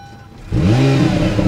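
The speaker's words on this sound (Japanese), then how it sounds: "じゃあエンジンスタートします。" A Honda NSX engine cranks and catches at about half a second, settling into a loud, steady idle with a rising, rumbling tone.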